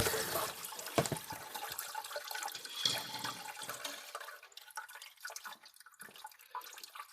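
Old, dirty coolant drains out of a car engine during a timing chain and water pump job, a steady liquid splash and trickle with a few drips that gradually thins and weakens toward the end.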